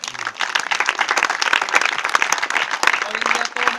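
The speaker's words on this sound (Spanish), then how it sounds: "Vamos a dar un aplauso a Dios por la vida del hermano Poncho." A church congregation bursts into lively applause and clapping, dense and close throughout, with scattered cheers and voices mixed in.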